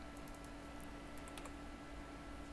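Quick bursts of soft key clicks from a computer keyboard as short numeric values are typed in, close and quiet over a low steady background hum, with no talking.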